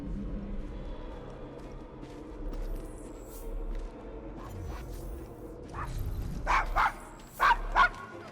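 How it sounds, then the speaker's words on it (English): A dog named Desmond in the Devil's Acre, a rough London district in Assassin's Creed Syndicate, whimpers and gives a few short, fairly close yips and barks near the end, over low street ambience. "Is your dog quite all right?"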